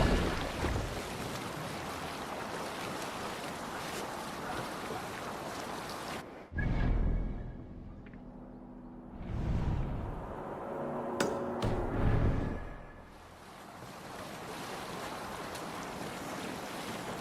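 Viking longship sailing on open sea in Assassin's Creed Valhalla, steady rushing waves and wind with swells of water splashing against the hull and occasional creaks, no talk.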